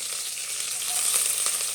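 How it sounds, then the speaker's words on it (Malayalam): Green chillies, curry leaves and sliced onion sauté in hot oil for a chicken curry, making a close, steady sizzle and crackle with faint stirring clinks and no talking. "ഫസ്റ്റ് ഞാൻ ഓയിലിലേക്ക് പച്ചമുളകും കറിവേപ്പില ഇട്ട് കൊടുത്തിട്ട് വഴറ്റിയിട്ട് അതിലേക്ക് സവാള ചേർത്ത് കൊടുത്തിട്ടുണ്ട്"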